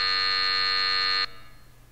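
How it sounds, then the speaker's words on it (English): A concert-start buzzer in the game Symphonic Rain sounds as one loud, steady electronic drone lasting about a second and a quarter, then cuts off abruptly, leaving a faint fading hum. "the buzzer announcing the start of the concert resounded through the hall"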